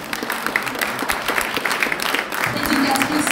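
An audience at an award ceremony in Brussels applauds to welcome a speaker, producing a dense, continuous wash of clapping with some voices and crowd noise mixed in, fairly loud and close throughout.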